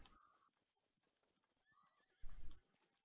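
In a video game, a horse whinnies in a faint, high call at the start and again midway, while a louder burst of hoof or movement noise comes near the end and background game sound runs throughout.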